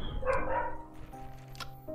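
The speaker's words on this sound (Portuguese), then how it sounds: "perdoa o cachorro latindo aí" A dog gives one or two short barks and yips indoors, moderately near, among background game sounds and a low hum.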